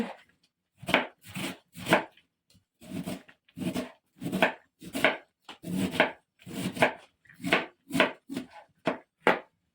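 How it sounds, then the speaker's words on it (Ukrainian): A knife chopping onion on a board for fish, a run of about fifteen crisp, evenly spaced cuts with brief gaps between them, close and clear. "А це ріжу цибульку до риби"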